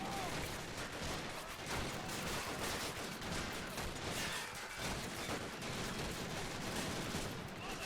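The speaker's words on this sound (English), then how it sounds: "coming under a lot of heavy fire from artillery and machine guns" Sustained heavy gunfire from Men of War Assault Squad battle at Foy, machine guns rattling continuously amid artillery blasts in a dense, unbroken barrage lasting several seconds.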